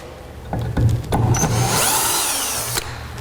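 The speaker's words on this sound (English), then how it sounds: "taking out some screws" A power drill backs screws out of a Site Commander front support arm system, with short whirring bursts and then a longer rising whine, loud and close, ending with a click.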